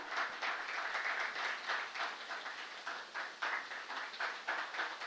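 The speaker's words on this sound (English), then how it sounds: "Can we have a big round of applause?" Audience applause at an awards ceremony for a fintech summit in India, a steady, moderately loud wash of many hands clapping that carries on evenly through the whole stretch, with no voices rising above it.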